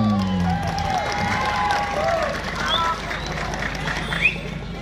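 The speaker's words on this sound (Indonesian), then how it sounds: "Tepuk tangan." An outdoor crowd at an ebeg dance festival awards ceremony in a town square applauds and cheers steadily, a dense wash of clapping and voices with some babble underneath.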